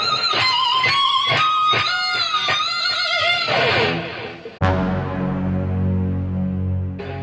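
An electric guitar plays the lead lick from a song, a run of quick picked notes with bends and shimmering vibrato, then a sharp attack into a long sustained ringing note, loud and with no talking.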